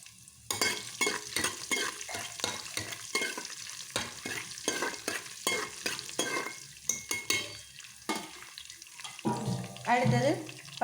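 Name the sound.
black pepper, cumin and ginger frying for ven pongal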